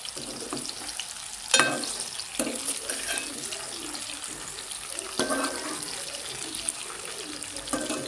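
Whole spices including bay leaves, cloves, cardamom and cinnamon frying in oil for a masala brinjal dish, a soft steady sizzle with occasional utensil clinks and stirring scrapes.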